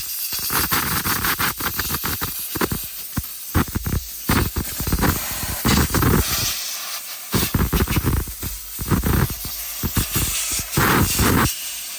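Compressed air from a blow nozzle blasts out a machined part in loud, hissing bursts of varying length, separated by short pauses, close to the microphone with no speech.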